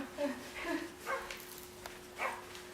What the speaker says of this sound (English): Look, there's a barking dog.